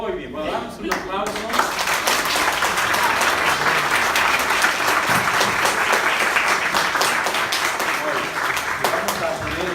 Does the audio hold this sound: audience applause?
yes